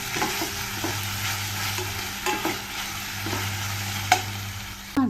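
Egg curry masala stirred and mixed in a sizzling pan, spoon scrapes recurring every second or so over a steady fry, ending with a sharper clatter; no voices.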